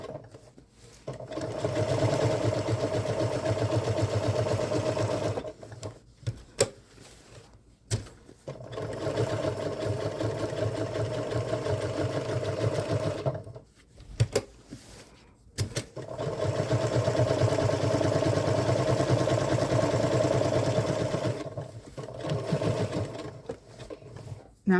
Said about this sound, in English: I'm going to go ahead and keep sewing